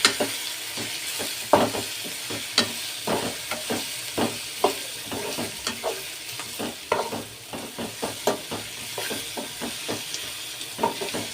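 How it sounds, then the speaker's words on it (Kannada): Chili powder frying in oil for Belgaum-style maize upma, a steady close sizzle with repeated scraping stirs of a spoon against the pan. "ಖಾರದ ಪುಡಿ ಚೆನ್ನಾಗಿ ಎಣ್ಣೆ ಫ್ರೈ ಆಗಬೇಕು"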